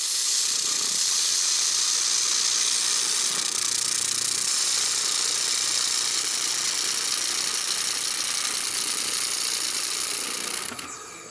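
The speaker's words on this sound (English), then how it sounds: "You can hear the weld change when it's not fully melting that." A 1500W fiber laser welder runs along a seam, a continuous bright, hissing sizzle that holds steady and then cuts off near the end.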